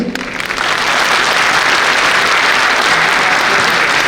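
A large crowd breaks into applause, rising within a moment into steady, dense clapping that holds at full strength.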